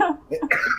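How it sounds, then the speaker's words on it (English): One short, close cough breaking into a laughing, throat-clearing sound during a tabletop Marvel Superheroes RPG session. "I started coughing"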